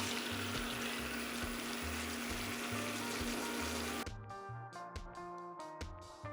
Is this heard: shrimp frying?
yes